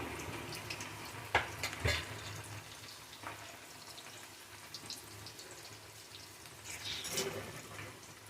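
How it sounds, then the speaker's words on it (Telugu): Pieces of raw green banana fry in hot oil for pickle-making, giving a continuous soft, close crackle and sizzle. A couple of louder clinks or stirring scrapes cut in, with no talk. "క్రిస్పీగా వేయించుకోవాలి."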